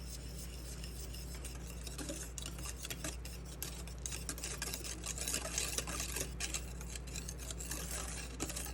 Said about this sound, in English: we're going to add a 3-ounce packet of strawberry jello. Let's stir that in.